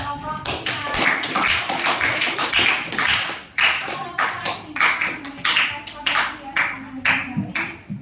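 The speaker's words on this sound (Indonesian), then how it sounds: "kasih aplaus buat kelompok 5" A classroom audience applauds a student debate group, a steady round of hand clapping lasting several seconds with voices mixed in, dipping briefly midway before picking up again and fading with scattered claps.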